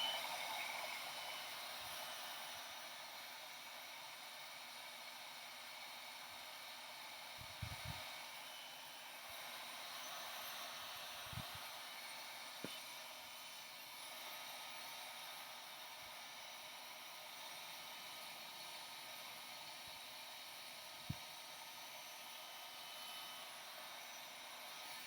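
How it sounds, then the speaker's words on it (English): A heat gun drying wet craft paint runs as a steady, quiet whooshing hiss for the whole stretch, with a few faint knocks and taps scattered through it and no talking. "Heat gun morning."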